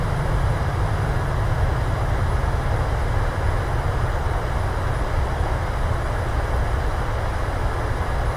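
An airliner's thrust reversers roar during landing deceleration in Microsoft Flight Simulator: a steady, loud, unbroken rumbling blast with deep low-end weight that holds constant from start to finish.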